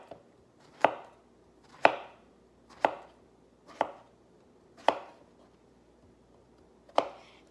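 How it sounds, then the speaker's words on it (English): A kitchen knife cuts squash into rounds on a cutting board, making six sharp, evenly spaced chops about a second apart, close and clear, with no talking. "I'm going to slice them into rounds."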